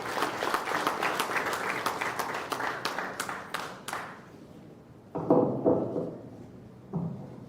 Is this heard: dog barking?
no